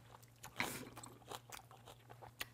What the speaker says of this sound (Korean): 한번 우리 먹어볼게요